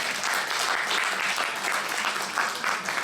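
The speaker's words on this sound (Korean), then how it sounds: "박수 좀 쳐주세요." An audience at a research presentation gives dense, sustained applause, steady and continuous clapping from many hands filling the room throughout.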